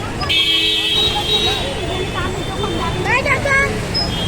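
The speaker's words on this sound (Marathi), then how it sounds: "एवढी ट्रॅफिक आहे" Heavy street traffic outside two Shiva temples on a busy Shravan Monday, with a sustained honking horn near the start and more short horn toots later, over a constant rumble of engines and voices nearby.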